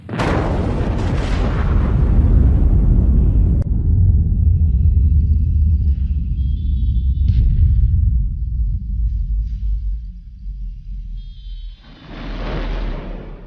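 Underwater atomic bomb test blast on archival film: a huge, sustained deep rumble and roar that runs for many seconds, easing off and then surging again with a rough burst near the end.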